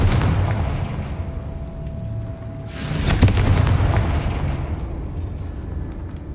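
Spell explosions in Hogwarts Legacy from Bombarda and Confringo, a heavy boom with a bright crackling burst around the middle over a constant loud rumbling game backdrop, no talk.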